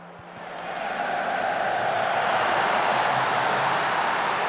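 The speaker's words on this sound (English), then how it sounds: "the crowd sounds in this are so bad, aren't they?" Stadium crowd noise from the football video game Football Manager 2023 swells into a steady, broad roar that holds at an even level and carries no distinct cheers.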